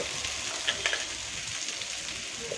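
Masala for Bangladeshi-style chicken pulao sautés in a pan with a steady, soft sizzle. A few light clinks of a spoon against the pan break through the frying.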